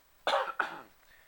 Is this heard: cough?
yes